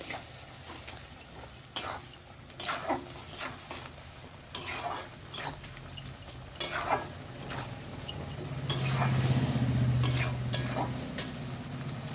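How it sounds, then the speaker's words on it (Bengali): A spoon stirs chili and turmeric spice paste frying in a pan, producing repeated scraping strokes and clinks over a soft sizzle that swells toward the end. "এবার এটাকে ভালো করে কষিয়ে নেব।"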